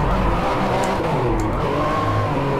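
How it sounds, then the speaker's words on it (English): Ferrari F50 engine in the racing game DriveClub, revving hard and loud with rising and falling pitch, close and dominant across the short burst, with a faint skid-like edge. "damn, I'm driving an F50"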